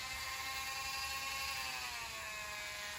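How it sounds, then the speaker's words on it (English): A Dremel rotary tool fitted with a sander head runs at low speed on cypress wood for a duck call, giving a faint, steady high whine whose pitch sags slightly near the end. "So I'm gonna use my Dremel,"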